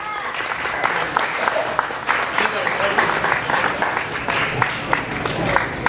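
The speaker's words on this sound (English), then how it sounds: "give a huge round of applause for the very funny Sean Dills" Audience at a brewery comedy show applauds a comedian, lively clapping with some cheering, fairly close and continuous, with a voice talking over part of it.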